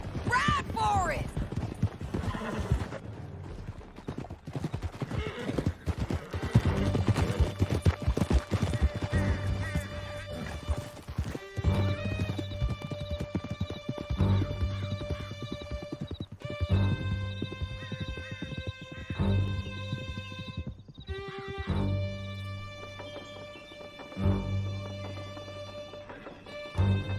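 Horses galloping in Red Dead Redemption 2, a rapid, loud drumming of hooves with sharp whinnies, scattered gunfire and crashes, and a sustained musical score rising beneath the ride.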